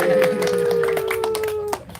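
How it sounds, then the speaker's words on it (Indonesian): A small group at an online tournament prize-giving claps in scattered, uneven bursts close by, while a steady sustained tone hums underneath and voices murmur faintly. "tepuk tangan dong"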